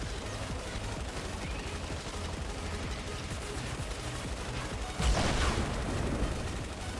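Dense, continuous gunfire from a Fortnite Save the World battle rattles in rapid bursts, with a heavier blast surging louder partway through, all quite close and without any talk.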